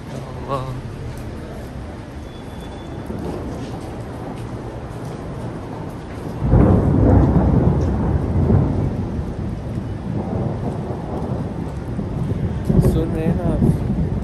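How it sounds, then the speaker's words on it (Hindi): Thunder rolls during heavy rain outdoors near a mosque in Medina, a loud rumbling surge over constant rain and wind buffeting the microphone, with someone talking throughout. "बिजली की वो खर खर आ रही"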